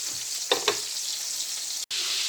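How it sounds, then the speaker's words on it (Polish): Duck fat sizzles and fries steadily in a roasting pan, a continuous crackling hiss with a couple of sharper pops early on and a brief dropout near the end. "ten cały tłuszczyk na potem musimy ładnie przelać na brytwannę i smażyć"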